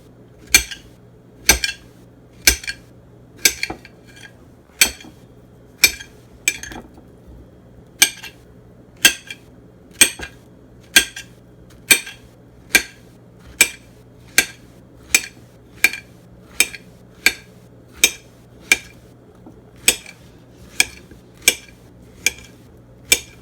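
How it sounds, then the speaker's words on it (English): Knife chopping zucchini into small triangles on a cutting board, a run of about twenty-five crisp, evenly spaced taps, close and clear with no talk. "angle our knife like that, making little triangles"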